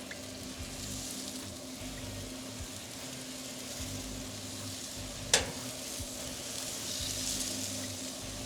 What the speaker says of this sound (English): We're going to give these a nice baste.